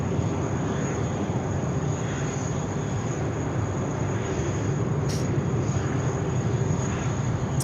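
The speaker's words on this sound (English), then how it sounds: "All Nippon Airways making its way out there to runway 16 right now." An All Nippon Airways airliner taxis out toward runway 16 at Sydney Airport, giving a steady, continuous engine roar at moderate distance with no pauses throughout.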